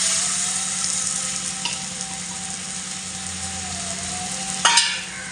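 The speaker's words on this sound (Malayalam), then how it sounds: "ഇനി അതിലേക്ക് തക്കാളി ചേർത്ത് കൊടുക്കുക." Chopped tomatoes sizzle in frying onion masala for a crab roast, a steady close hiss with a faint hum underneath and a sharp clatter of the spoon near the end.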